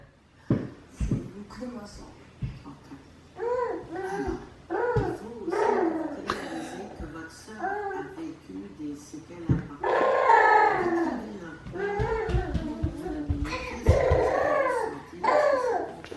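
A dog whimpers and lets out drawn-out, wavering howl-like cries close by, with people talking softly around it.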